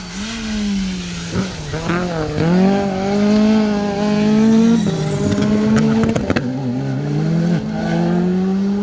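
Jamie McBain's Peugeot rally car drives hard on a tarmac rally stage, its engine loud and near with revs climbing and dropping through gear changes and a brief lift around the middle.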